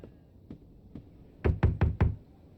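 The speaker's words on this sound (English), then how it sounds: "Knock on the door." Knocking on a door: three spaced single knocks, then a faster run of four louder raps, close and distinct in a quiet room.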